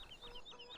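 Chickens cluck softly in the farming video game Farming Legends, a quiet series of short rhythmic clucks heard alone in under a second.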